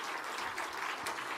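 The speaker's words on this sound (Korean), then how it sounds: "우리 말씀 주신 하나님께 감사 박수합시다." Church congregation claps together after a sermon at a Sunday afternoon service, a steady wash of applause filling the room for about a second and a half.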